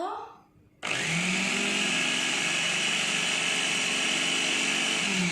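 A Signora daily chopper switches on at speed 1 after a short moment of quiet, then runs with a loud, steady whirring motor hum close by for the rest of the time.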